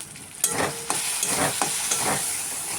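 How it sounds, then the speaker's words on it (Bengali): Spice paste with turmeric and salt is stirred in a hot pan for a spicy papaya and katla fish curry. A constant sizzle runs throughout, broken by several sharp scraping strokes of a spoon, close and clear. "তারপরে পরিমাণ মতন লবণ দেওয়ার পর নাড়াচাড়া দিয়ে"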